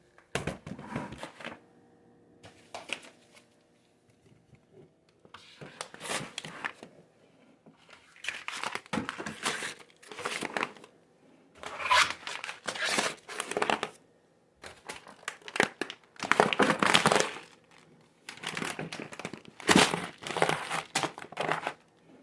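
Mylar bags being filled with rice crinkle and crackle in repeated close bursts, loud rustling handling separated by short quiet gaps, with no talking.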